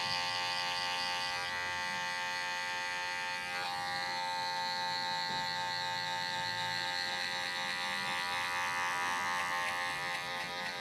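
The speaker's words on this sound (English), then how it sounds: "this is where I start using just the corner of my clipper" Electric hair clipper cutting hair with just the corner of its blade during a side-part haircut, a continuous close, steady buzzing drone that runs throughout without pause.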